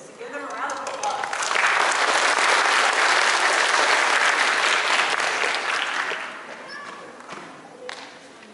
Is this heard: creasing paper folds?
no